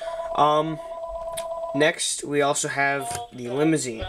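A home telephone rings in the background with steady electronic tones, sounding between and under close speech.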